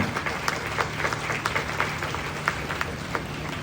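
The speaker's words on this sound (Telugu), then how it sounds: "ఒకసారి బ్రదర్ని బట్టి గట్టిగా చప్పట్లు కొడతాం" Audience at a pastor's church sermon clapping loudly together, a dense steady applause with sharp individual claps standing out throughout, no speech over it.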